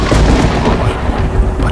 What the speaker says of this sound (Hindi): ये भयानक बरसात, इस जंगल में बरसात की रात में जाना खतरनाक होता है।